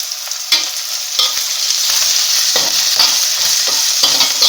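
Vegetables being stirred and roasted in a pan for a horsegram soup: loud close sizzling with repeated scraping strokes of the spatula at an irregular rhythm, no talking.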